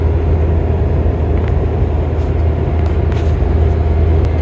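An Isuzu NPS 4x4 truck cruising at highway speed, around 100, with a steady, loud engine drone and continuous road and wind roar from inside the cab, no voices.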